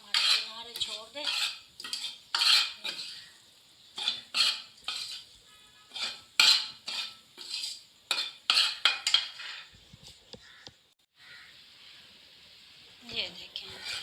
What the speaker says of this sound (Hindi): अब हम इसे भूनेंगे, इतना भूनेंगे कि ये हलवा हमारे किनारे छोड़ दे।